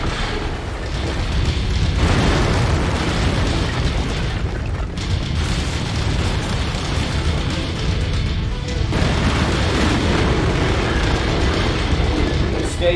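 Explosions from destroying targets in the mech combat game MechWarrior 5 Mercenaries, with heavy booms and crashes layered over a continuous loud rumble of battle.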